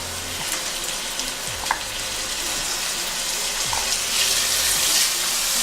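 Vegetables sizzle and hiss steadily in a hot pan for vegetable fried rice, with occasional clinks of a utensil stirring and scraping through the loud, continuous frying.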